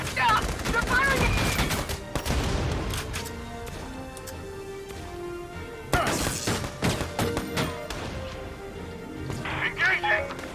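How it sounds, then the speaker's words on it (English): Gunfire crackles in bursts through a Valkyria Chronicles 4 battle, with rapid shots, thuds and crashes from the game mixed with energetic voices talking over it. "Yeah, they're firing!"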